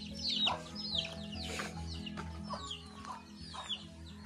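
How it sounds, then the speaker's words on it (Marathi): Hens cluck and chatter in short repeated bursts close by at a village farm in the evening, over a low steady background hum. "चावरी कोंबडी आहे."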